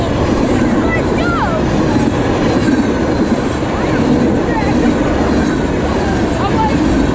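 A CSX coal train rolls past close by, making a loud, steady rumble with clacking wheels and faint squeals throughout, while a voice talks briefly over it.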